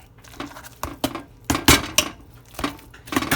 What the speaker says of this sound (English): I'm going to mix by mashing